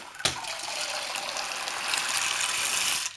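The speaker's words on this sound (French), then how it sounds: "je vais simplement faire tremper mes pois chiches une nuit" Water gushes steadily from a tap onto dried chickpeas set to soak overnight, a loud continuous hissing pour that starts abruptly and runs unbroken for about three seconds before stopping.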